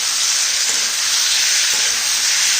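Mushroom pieces sauté in a hot pan, producing a loud, unbroken hiss and sizzle that holds steady throughout with faint clicks beneath.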